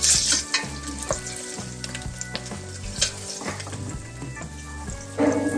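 Green chillies and onions fry in a pan with a loud, steady sizzle and crackle, broken by occasional stirring scrapes, heard up close with no speech.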